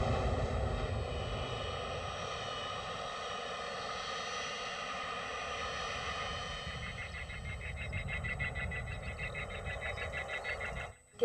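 A propeller airplane at an aerodrome drones steadily through the whole clip, its engine a sustained harmonic hum at moderate distance that stays fairly constant, with no talk.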